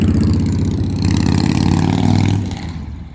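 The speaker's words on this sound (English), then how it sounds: "There's a lot more motorbikes getting around and a lot more cars revving their engines" Engines revving on a city street, a loud steady mid-pitched drone with a rising rev that holds for a couple of seconds, then drops off and fades as the vehicle passes, with no talking.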